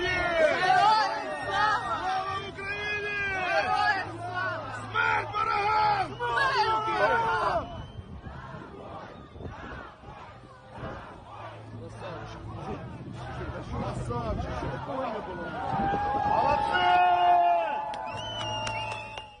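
Crowd of Kherson residents gathered at a street protest, a dense babble of many voices with rising shouts and chanting, loud and close, swelling again toward the end.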